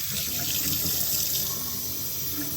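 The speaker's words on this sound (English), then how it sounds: "Kind of fill it up with water." Tap water streams steadily from a faucet into a container holding barbecue sauce, a constant close hiss and splash with no pauses.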